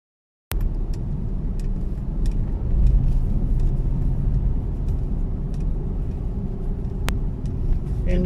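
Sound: traffic on highway in Metro Manila

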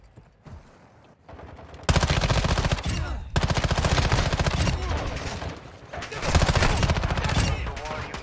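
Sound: gunfire in a hipfire challenge in the video game DMZ

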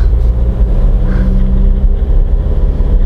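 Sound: diesel car engine running while driving

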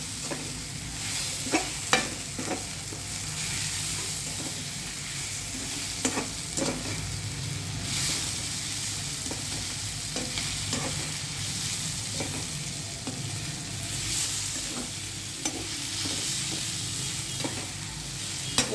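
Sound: mint chutney ingredients cooking in a pan

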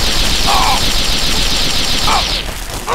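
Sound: gunfire from enemies in the video game Fallout 3

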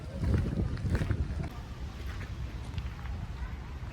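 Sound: strong wind

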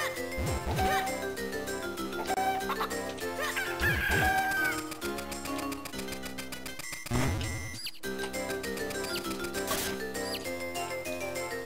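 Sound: chickens clucking in the video game Zelda Minish Cap

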